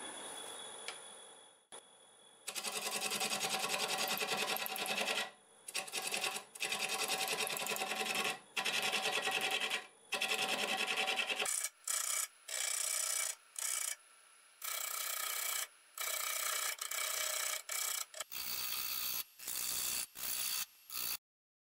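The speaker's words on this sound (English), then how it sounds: "So I'm going to switch to a 1/2-inch bowl gouge and cut that down." A half-inch bowl gouge cuts into a spinning piece of cherry wood on a lathe, a loud, close, continuous rasping scrape that comes in repeated bursts of a second or two, broken by short pauses, with no talk.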